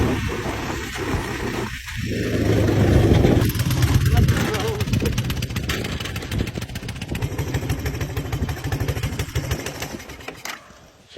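An old Honda three-wheeler, left outside rotting for years, runs with a loud, rough, close engine drone after a brief sputter, revving up and then settling into an uneven idle with some clatter.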